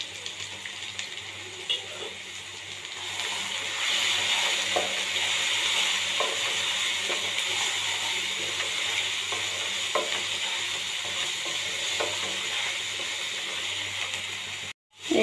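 Ground spice masala with salt, chilli, cumin, coriander, turmeric, chicken masala and garam masala sizzles and fries steadily in a pan for a prawn fish curry, with occasional stirring scrapes, close and continuous, no talk.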